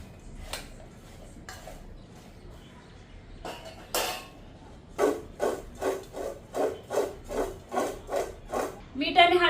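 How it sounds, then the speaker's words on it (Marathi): A spoon stirs raw mango pieces coated with salt and turmeric in a bowl, producing close, regular scraping strokes that settle into a steady rhythm of about one stroke every half second. "ह्या फोडींना आता लागेल असं आपण चमच्याने हलवून घेऊया"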